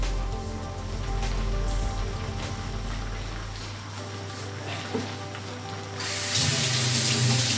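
Kitchen tap water runs steadily into a sink while used cooking utensils are washed, a continuous hiss that swells louder near the end, with faint clinks and no talking.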